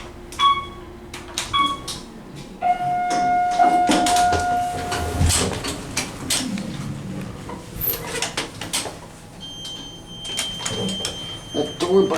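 In a hotel's Otis hydraulic elevator, a door buzzer sounds in short repeated beeps and a longer tone, followed by the sliding rumble and thud of the doors closing, with people talking in the cab.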